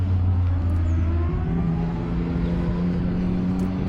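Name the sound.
sports motorcycles revving in the background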